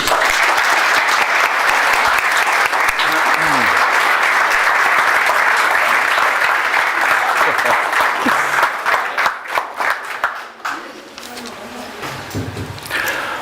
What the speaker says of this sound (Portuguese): que façamos com uma salva de palmas